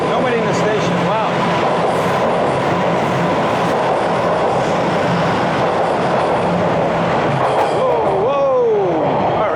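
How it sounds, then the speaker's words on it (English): A late-night subway train pulls out of an empty station with a steady rumbling roll that fills the whole stretch, and a rising wheel squeal near the end. "Here's the train leaving the station, and nobody in it."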